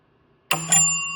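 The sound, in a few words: Bally slot machine jackpot bell ringing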